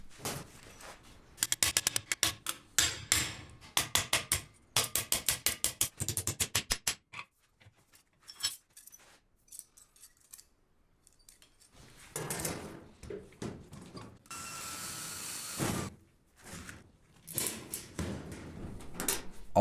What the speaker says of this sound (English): Now I'll bend some hinges so the door can open easily